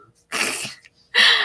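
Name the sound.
sneeze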